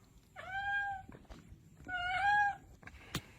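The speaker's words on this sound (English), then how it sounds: "That's a cat." A cat gives two clear, drawn-out meows in a room near a fan, each about a second long with a short gap, followed by a sharp knock at the end; no talking.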